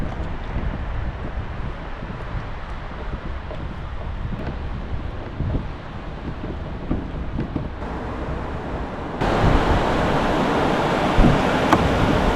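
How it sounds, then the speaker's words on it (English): Rough sea around a kayak, with big waves churning and wind buffeting the microphone in a constant loud rush that swells stronger near the end. "the waves are pretty big, but let's do this."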